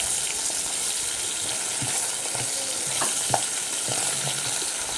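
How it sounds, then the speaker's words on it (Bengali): Pabda fish frying in a pan, a steady bright sizzle of hot oil running the whole time with a few soft clicks and taps of cookware, no talking. "মাছটা বসিয়ে দিয়েছি, একটু ফ্রাই করে তারপরে হচ্ছে শিম বিচিটা দেবো।"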